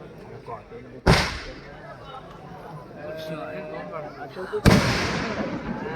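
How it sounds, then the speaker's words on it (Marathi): Two loud, sharp firework bursts about three and a half seconds apart, each with a crackling tail, over a busy crowd murmur at a kabaddi match. "फटाक्यांची असणारी आतषबाजी या ठिकाणी स्पर्धेच्या निमित्तानं"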